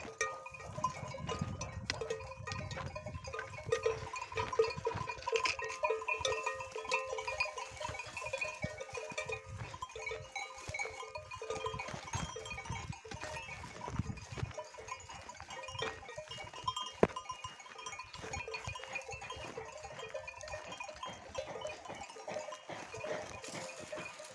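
Sheep and goats on a cold highland pasture bleat intermittently over a scattered, busy background of flock movement, the calls moderately near and overlapping.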